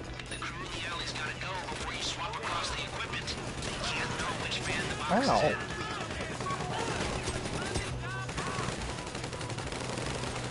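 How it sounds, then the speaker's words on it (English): Rapid bursts of video game gunfire during a bank heist crackle under excited voices, with a short exclamation partway through and a sharp louder hit in the middle. "what's all that gunfire right down the street?"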